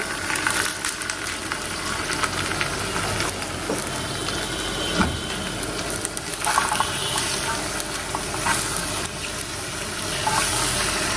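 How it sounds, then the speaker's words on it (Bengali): Onion and green chili fry in a hot pan with a continuous loud sizzle and hiss, with occasional clatters and stirring knocks. "পেঁয়াজ আর কাঁচামরিচটা এখানে একটু হালকা ভাজা দিয়ে নিচ্ছি"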